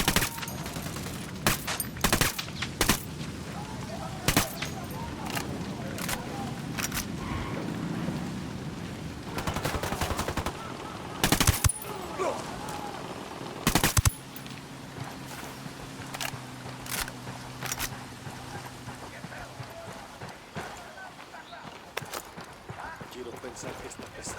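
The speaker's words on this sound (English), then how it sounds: "Opening fire on these fuckers." Gunfire in the video game Ghost Recon Wildlands, sharp bursts and scattered shots popping irregularly over a rain-like ambient wash, with voices talking in between.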